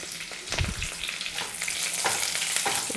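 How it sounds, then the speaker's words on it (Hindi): Garlic, ginger and curry leaves sizzle steadily in a hot pan, a continuous bright crackle with a few stirring scrapes and bursts, close and fairly loud, with no voices. "आधा चम्मच लहसुन और अदरक डालकर हम इसे एक बार भून लेते हैं।"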